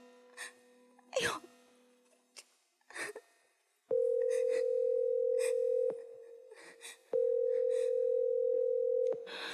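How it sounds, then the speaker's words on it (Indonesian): A telephone ringback tone drones as a steady, loud held beep of about two seconds, pauses, then sounds again; before it come brief breaths and rustles with no speech. "Ya Allah Eja, please angkat telepon."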